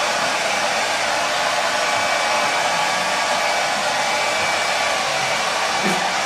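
A hair dryer blows on paint drying on a pair of trousers, a loud, steady, close whooshing roar that continues unchanged from start to finish with no voices.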